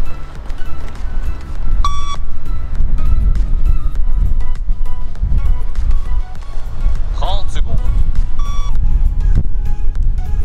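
Sharp electronic beeps from a fitness test audio track ring out at intervals during a firefighter recruitment shuttle run, clear and close, over heavy footsteps and rumbling movement, with a voice briefly audible.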